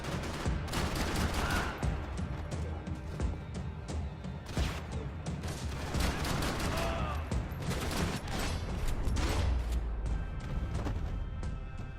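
Heavy gunfire in the Max Payne 3 video game over Hoboken: rapid bursts of automatic fire and sharp single shots, loud and close, with crashes mixed in and game voices faintly under the din.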